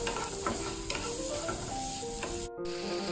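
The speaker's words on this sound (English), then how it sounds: "In a skillet, saute your garlic." Garlic sizzles steadily in olive oil in a hot skillet, with soft scraping as it is stirred around the pan.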